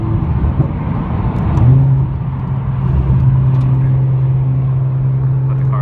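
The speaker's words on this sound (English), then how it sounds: "when you drive, you can hear the gear whine in it" A fully built Nissan GT-R drives along with its transmission gear whine, a steady tone rising into a sustained whir under engine and road rumble, with someone talking over it.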